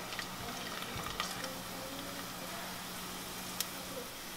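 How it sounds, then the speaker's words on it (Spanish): Garlic frying in oil for a chili-oil salsa macha, a steady low hiss of sizzling with a few faint stirring scrapes, close but fairly quiet. "Voy a mover los ajos porque quiero que se doren, no que se quemen."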